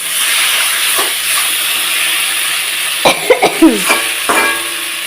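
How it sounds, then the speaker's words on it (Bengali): Spice paste frying in oil in a pan while cooking bata fish with data stems, a steady sizzling hiss with a cluster of short scraping stirs and faint crackles near the end. "আর সাইড দিয়ে হালকা তেল কিটকিট করছে তার মানে ভালোভাবে মশলাটা কষানো হয়ে গেছে"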